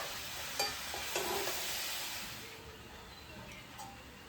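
Mixed vegetables for Bengali labra sizzle softly in a pan while being stirred, a gentle steady frying hiss with a few light scraping clicks.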